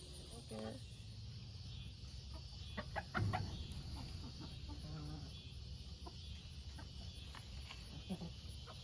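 Chickens cluck softly inside a farm chicken coop during egg collection, scattered short calls at close range over steady background hum, with brief people's voices in between.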